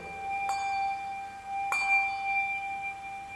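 Handbells ring out twice in a clear, quiet setting, each struck at about half a second and again near 1.7 seconds, with bright tones that sustain and shimmer long after each strike, and no talking.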